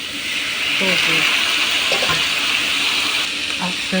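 Water pours steadily into a pan of chicken, ginger and broccoli seasoned with white pepper, salt and sugar, with a continuous splashing hiss and faint brief speech sounds underneath.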